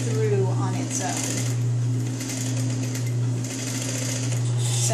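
A sewing machine runs steadily while stitching a curved bias section, its even motor whir and rapid needle clatter close and loud throughout, with a person talking over it.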